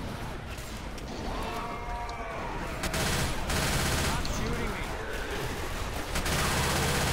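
Rapid gunfire bursts in Left 4 Dead 2, steady and loud throughout, with game effects layered over it.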